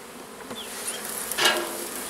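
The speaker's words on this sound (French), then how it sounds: "il y a encore une bonne grappe d'abeilles là." A swarm of honeybees clustered on branches buzzes steadily and close, a dense continuous hum with individual bees passing near, no talk over it.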